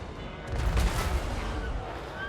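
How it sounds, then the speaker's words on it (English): The pulsating pleasure cannon fires in a Total War Warhammer battle as a dense, rumbling burst of booming shots layered with broad battlefield noise. "pulsating pleasure cannon are pretty intense"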